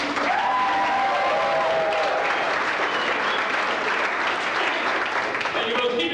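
A comedy club audience claps and cheers for comedian Steve Gelder, a full sustained roar of applause with whoops, while a voice talks over the start.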